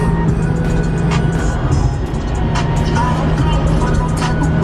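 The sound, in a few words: Acura RSX car driving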